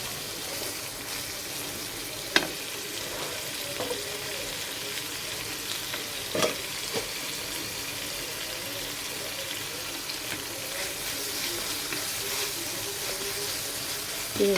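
Onions frying in a pan for a dish of Malabar spinach with jackfruit seeds give a long, even sizzle, with occasional sharp clinks of a utensil against the pan and no talking.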